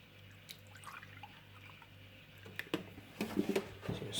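Milk poured straight into a cheese scone mixture, making soft, faint liquid drips and splashes that grow busier in the last second and a half over a low steady hum.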